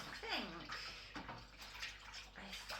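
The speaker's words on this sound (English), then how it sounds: "rinsing it out in there, get it all in good and proper, give it a stir" Water sloshes and splashes in a container as nettle beer is rinsed through and stirred, with brief pouring gurgles and a faint voice over it.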